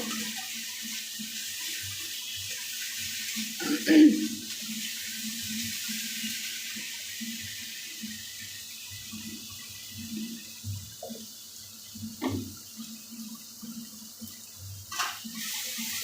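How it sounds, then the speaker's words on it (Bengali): A small amount of water is poured into a cooking pan holding a Bengali puti fish dish with mustard. The pouring gives a faint, hissy trickle with a few soft clinks and knocks of the pan. "দেখুন, এবার ভিতরে আমি একটু অল্প পরিমাণ এবার জল দিয়ে দেব"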